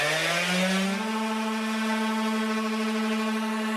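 A power sander smoothing forged carbon fiber up to 220 grit, a steady loud electric whine that settles to a constant pitch after a brief rise, close and alone.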